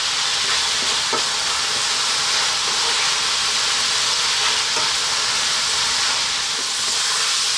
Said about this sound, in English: We're gonna stir fry this in for about another 4 minutes or so.